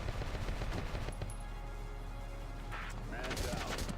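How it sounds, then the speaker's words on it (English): Short-range machine gun firing in Valkyria Chronicles, a dense burst of rapid gunfire followed by quieter battle noise and a second burst near the end. "I forgot that I equipped Wendy with a very short range machine gun."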